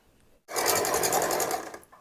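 A sewing machine stitches fabric for a puff sleeve in one steady burst, a fast, even, whirring run of needle strokes heard up close for about a second and a half.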